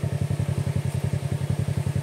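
A motorcycle engine runs steadily nearby, its low, even thumping pulses repeating rapidly with no break and no voices over it.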